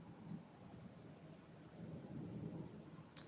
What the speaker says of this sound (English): If you can hear some thunder, if it sounds like thunder, it is thunder.